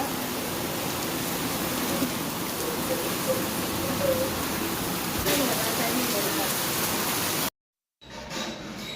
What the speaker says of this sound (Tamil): நேற்று ஈவினிங் சரியான மழைங்க, சூப்பராக இருந்துச்சு.